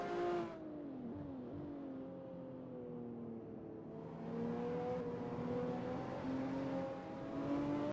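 Race car engine in a sim racing game, revving and shifting as it drives through a set of S-bends, steady and fairly close, with pitch sweeping up and down and no talk.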